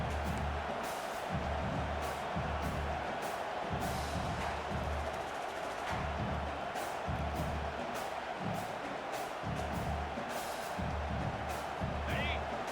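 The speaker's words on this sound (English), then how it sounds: "This crowd rising up, sensing that its defense needs some help." A stadium crowd at a college football game between Alabama and Texas makes a constant loud roar, with commentators talking over it throughout.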